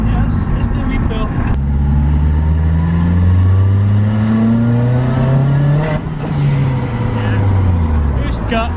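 A Mazda RX7 fitted with a K20 turbo engine revs hard through a pull, the pitch climbing steadily across several gears with brief drops at each shift, loud and close, with a voice speaking over parts of it.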